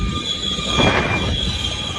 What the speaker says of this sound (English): the massive train barreled toward the stuck tractor